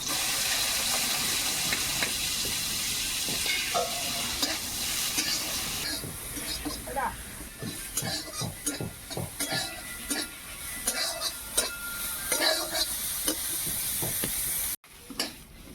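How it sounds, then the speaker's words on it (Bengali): Freshwater snails sizzle in a small amount of hot oil while a spatula stirs and scrapes them, giving a steady frying hiss broken by uneven clacks and scrapes, close and fairly loud, ending abruptly. "তেলটা গরম হয়ে গেছে, এবার গুগলিগুলোকে দিয়ে আমি নেড়ে নেবো।"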